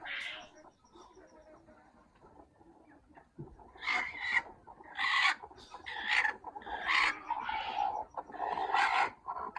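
Hens cluck in short repeated bursts from about four seconds on, fairly close, after a quieter stretch of low rustling, while eggs are checked under a hen on a farm.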